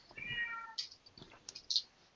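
A house cat meows several times in short separate calls, fairly close and clear, with no talking.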